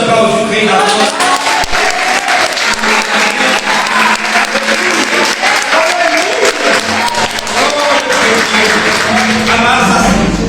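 A large church congregation claps loudly and continuously, with scattered cheers mixed into the sustained applause, filling the whole room.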